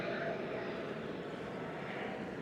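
Airplane passing overhead near an airport in Buenos Aires, Argentina, a steady broad engine roar that holds at an even, fairly loud level throughout with no clear rise or fade.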